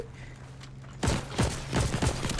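Gunfire in the war game Heroes & Generals: after a quiet second, a sudden burst of rapid shots erupts, with several sharp cracks spaced irregularly across the remaining time, loud and close.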